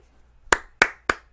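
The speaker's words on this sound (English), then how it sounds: "Golf clap on the pun, folks." Slow golf clapping: four crisp, separate hand claps close to the mic, spaced roughly a third of a second apart after a quiet start.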